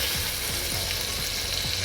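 Beef sizzling and frying in a pot for Puerto Rican beef stew, a steady dense crackle with occasional soft stirring scrapes, close and continuous with no voices.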